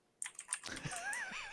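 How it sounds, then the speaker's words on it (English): Rapid clicking of keys on a computer keyboard, close and fairly quiet, a short burst of irregular taps that blends into a faint whistling tone. "I hear you typing."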